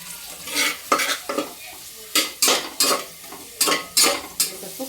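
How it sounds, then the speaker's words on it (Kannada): Fenugreek greens, mint leaves and onion stir-fried in a pan with turmeric, a spatula scraping in quick rhythmic strokes over a steady low sizzle. "ಸೊಪ್ಪು, ಪುದೀನ ಸೊಪ್ಪು ಎಲ್ಲ ಫ್ರೈ ಆಗಿದೆ."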